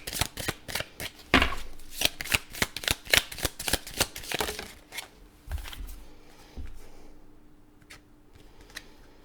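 Tarot cards are shuffled close by in quick riffling bursts and taps for several seconds, then the handling fades into quieter rustles.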